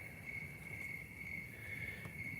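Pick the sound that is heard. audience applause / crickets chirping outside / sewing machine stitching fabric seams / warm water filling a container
crickets chirping outside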